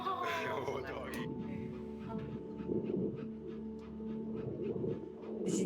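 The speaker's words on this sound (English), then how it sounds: "Oh, doggy." A therapy dog pants and gives soft whimpers close by while people talk over it, the breathy panting continuing under the voices.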